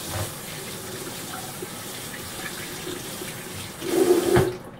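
Water running steadily from a tap while a pineapple is washed, a constant close hiss of flow that grows louder and splashier near the end before cutting off.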